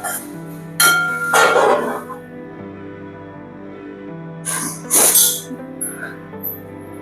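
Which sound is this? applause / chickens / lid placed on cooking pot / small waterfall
lid placed on cooking pot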